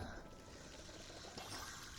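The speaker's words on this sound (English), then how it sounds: "Just water my planties and get them happening, get them going" Plants are watered in a farming video game, giving a soft, steady splash of pouring water that runs quietly without a break for about two seconds.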